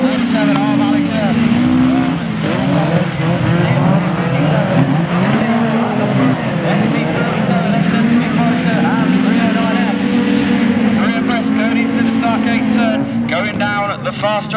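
Race cars, Class 9 at a UKAC round in Nottingham, roar along a circuit in a continuous loud drone of revving engines that rise and fall with gear changes, with commentary running over the top throughout.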